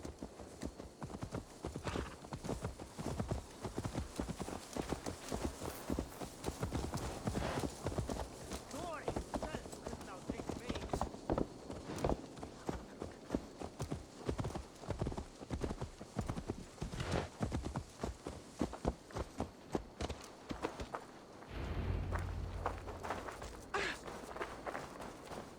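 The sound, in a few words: horse hooves clip-clop while riding in Assassin's Creed Valhalla video game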